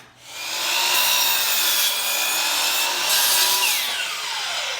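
A power miter saw whines steadily through wood making a 45-degree cut, loud and close, its pitch shifting slightly as the blade bites, then winding down.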